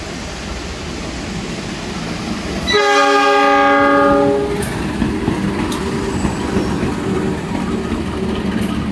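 A passenger train at a busy Jakarta railway station sounds a long loud multi-tone horn over steady rumbling and rolling wheel noise, with further trains clattering along in the background.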